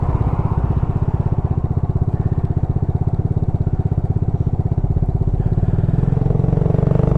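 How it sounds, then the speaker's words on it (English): A Suzuki Address 125 scooter engine held at steady raised revs while standing still, a close, loud, rapid puttering throb that holds constant throughout with no talking. "I always keep a few revs on now when I'm at a standstill"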